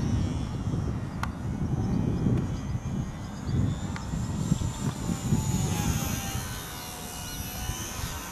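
Small engine of an RC Super Cub model airplane flying a loop outdoors, a steady thin buzzing drone at moderate distance that holds continuously with slight swells as the plane turns.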